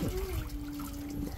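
Water runs steadily into a children's pool, a continuous rushing, trickling flow heard close up, with a faint tonal whine running through it.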